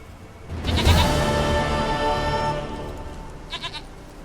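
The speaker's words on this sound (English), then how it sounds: "Goat of mine, dearest, sweetest goat." Goat bleating in The Witcher 3 video game, one long wavering bleat close by, followed by a few short faint trailing calls.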